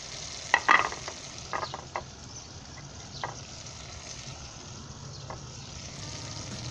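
Cabbage, carrot and green capsicum being sautéed with pasta in a pan, a soft steady sizzle beneath a few sharp scraping stirs early on, then quieter continuous frying with occasional light clinks.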